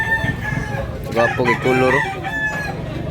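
At a chicken market, a rooster crows and clucks close by in short bursts as someone talks over it.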